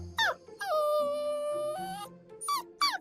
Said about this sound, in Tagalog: Kawawa naman tong tuta na to.